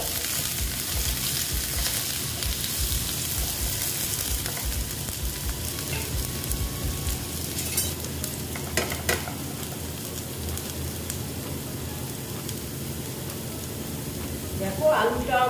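Diced potatoes frying in a pan for aloo bhindi, giving a steady close sizzle with stirring scrapes throughout and a few sharper clinks near the end.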